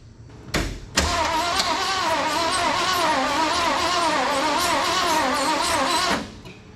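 A 1974 Ford Bronco V8 engine starts for the first time in 16 years, with a short crank, then a loud, near, wavering idle that sounds slightly uneven, as if one cylinder is misfiring, for about five seconds before it cuts off.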